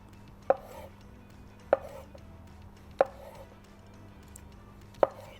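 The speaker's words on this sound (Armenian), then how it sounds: "հիմա պետք է կտրատենք սունգը" A knife chops mushrooms into medium pieces on a board, four sharp, separate knocks spaced roughly a second apart against a quiet background, with no talking.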